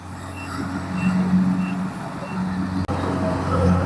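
A Kubota DC70 combine harvester runs steadily close by while harvesting rice, a continuous loud engine drone with tonal hum, rising and falling slightly, with one brief dropout near the end.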